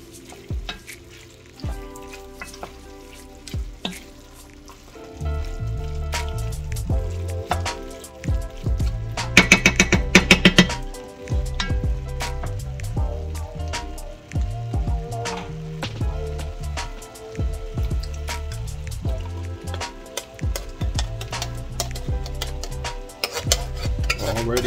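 A spoon stirs chicken and sausage jambalaya with diced tomatoes in a pot, giving repeated scraping and clinking strokes over a steady sizzle, loud and close, with a brief busier burst of clatter partway through.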